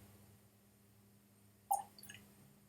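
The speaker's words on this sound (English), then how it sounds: "Add some water." A small splash of water poured into a glass of cask-strength Glen Scotia single malt Scotch whisky, a brief close drip and trickle standing out from a quiet room hum.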